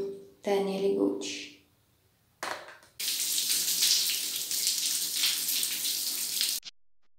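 A shower runs during a bath. A voice is heard briefly at first, then a steady spray of water hisses for about three and a half seconds before cutting off abruptly.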